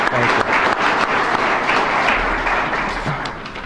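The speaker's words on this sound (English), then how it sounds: "Can we do a little bit better job with a round of applause for that?" A room full of people claps in a steady, dense round of applause at an evening government meeting, broad and sustained throughout before tapering slightly at the end.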